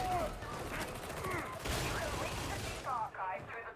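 Sustained machine gun fire in the Warhammer 40,000 Darktide video game, a dense, loud stream of rapid shots running the whole moment, with a voice talking faintly underneath.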